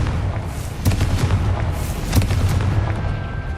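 Confringo fire spell explosions in Hogwarts Legacy, two loud booming blasts over a dense rumbling battle din with crackling bursts.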